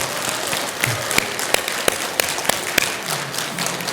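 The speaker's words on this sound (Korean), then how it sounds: "우리 박수 한번 보내주세요." An audience at a Buddhist temple Dharma talk applauds a newly arrived monk, a steady wash of clapping with a few sharp, distinct claps standing out near the front.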